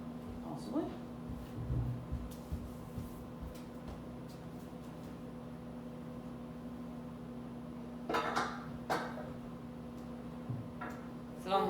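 Dishes and pots clatter faintly while someone searches through clean dishes in a home kitchen, scattered clinks and knocks at irregular intervals over a steady low hum, with a few brief louder rattles near the end.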